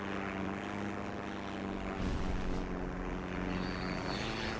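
A propeller airplane engine drones steadily on a runway in the video game Heroes and Generals, a loud, continuous rumble with a slight surge partway through and no talking.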